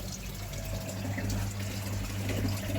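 Water runs and splashes continuously into a koi pond during a water change at night, a steady close wash of flowing liquid with a faint pump hum underneath.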